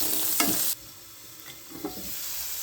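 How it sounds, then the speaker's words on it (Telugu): Pieces of bottle gourd frying and softening in a pan with a little salt and turmeric, giving a quiet sizzle under a brief stir near the start, then a low steady fry. "సొరకాయ ముక్కలు వేసుకొని మగ్గించుకోవాలండి"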